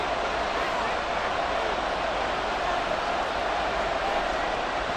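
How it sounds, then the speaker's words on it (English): A stadium crowd in Madden NFL 24 roars steadily as a big third down approaches in an American football game, a dense, unbroken wall of noise at even loudness throughout. "the crowd getting into it as we come up on a big third down"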